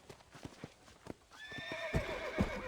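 Hooves clip-clop on the ground in Red Dead Redemption, then a horse gives a loud, drawn-out whinny near the end, close and clear over the game's background sound.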